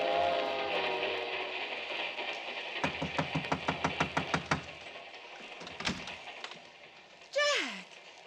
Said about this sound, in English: Listen, Peter's on this train, too.